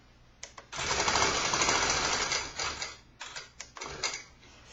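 A sewing machine stitching quilt binding, a short burst of clicks, then a sustained rapid mechanical run for about two seconds before slowing into choppy stops and restarts.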